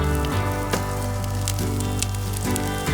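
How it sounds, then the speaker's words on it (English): Potatoes fry in hot oil in a pan at an outdoor camp cooking setup in Crested Butte, giving a steady, close crackling sizzle with scattered pops throughout. "I'm gonna take these taters and then put them in this hot oil to let them fry a little bit."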